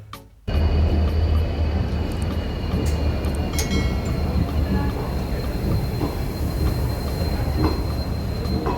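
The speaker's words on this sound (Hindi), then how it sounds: "चलिए अब आप देखिए इस ट्रेन का कानपुर सेंट्रल से डिपार्चर।" The Okha Banaras train departs Kanpur Central station with a loud, steady roar of moving rail cars, wheels rumbling and occasionally squealing on the track, heard up close for several seconds after a quieter opening.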